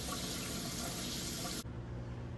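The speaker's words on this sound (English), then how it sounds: "So you start with cleaning your broccoli under cold water." Cold tap water runs steadily over broccoli being rinsed under a faucet, a loud continuous splashing rush that shifts tone near the end as the stream hits the florets differently.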